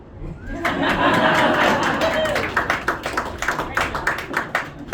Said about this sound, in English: people would clap